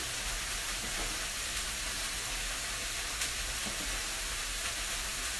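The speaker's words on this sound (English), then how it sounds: "So I'm gonna give it a little stir." Quinoa simmers in a pot on a stovetop flame, giving a steady close bubbling sizzle with faint scraping stir sounds and no voices.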